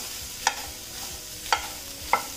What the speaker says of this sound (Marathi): मी वाटाणे भाजून घेते